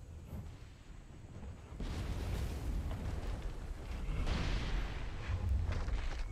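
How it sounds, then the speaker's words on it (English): Distant rumbling booms and crackling blasts roll on continuously, muffled and fairly faint, explosions in the modded video game ARK. "I think I'm hearing explosions"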